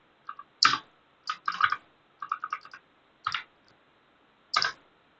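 Keystrokes typed on a computer keyboard while entering a DROP TABLE database command, heard as short clustered bursts of clicks with pauses between them, close and moderately quiet, with no speech.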